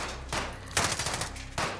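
Close, loud gunshots in Call of Duty: Modern Warfare, three sharp bursts spaced unevenly across under two seconds over a low ambient rumble, no talking.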